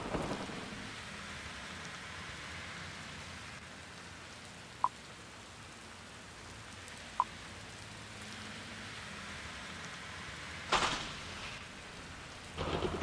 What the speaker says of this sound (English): In the dark, in the storm.